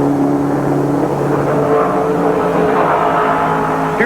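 Stock car engines roar at the 1974 World 600, a big Mercury among them, a loud, steady full-throttle drone with layered engine pitches as the cars pass close and sweep through the turn.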